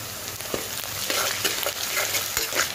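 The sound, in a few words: ginger garlic paste frying with onions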